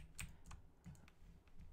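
Loud computer keyboard keys clack during Minecraft survival play, a quick irregular run of about eight close, crisp clicks with short pauses between them.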